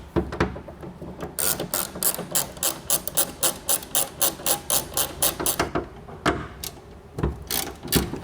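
Ratchet wrench loosening the bed rail bolts on a 2022-or-newer Toyota Tundra: rapid, close, crisp clicking in steady bursts, a pause, then a few more clicks, with no talking.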